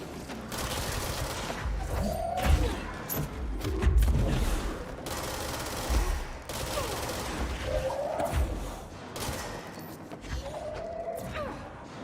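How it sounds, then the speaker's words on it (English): Video game gunfire in bursts of rapid shots with thuds, moderately loud over a busy background, while a player talks intermittently. "Now who's shooting me? You are shooting me."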